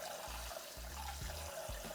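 Pork spare ribs being rinsed and squeezed by hand in a bowl of water, with soft wet splashing and trickling and a few low squelching pulses in a steady rhythm, close up and with no talking.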